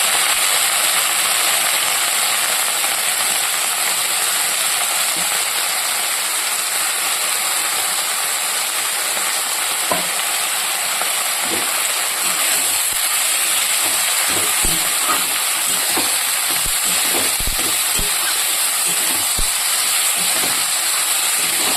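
Cut vegetables frying in oil with nigella seeds, a loud continuous hiss of hot oil with scattered clicks and scrapes from stirring throughout.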